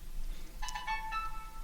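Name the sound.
mobile phone ringtone going off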